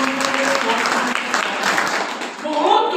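A church congregation breaks into applause, a continuous crowd clatter of many hands at moderate loudness with voices mixed in throughout.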